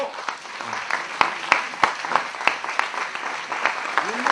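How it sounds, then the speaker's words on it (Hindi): Applause from a seated audience in a parliamentary-style hall honoring a Kargil war veteran, a dense steady patter of many hands clapping with a few sharp distinct claps standing out, heard alone without talk. "पूरे सदन खड़ा होकर एक बार ताली बजा दे इनके लिए।"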